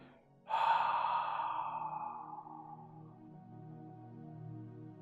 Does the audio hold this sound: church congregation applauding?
no